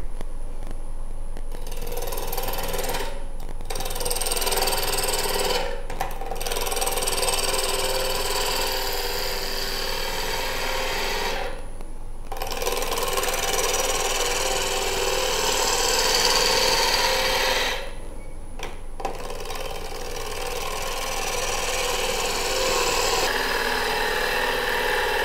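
A wood lathe turning a natural edge bowl, the motor humming steadily while the cutting tool hisses and scrapes against the spinning wood, broken by several brief pauses in the cut, with no talking.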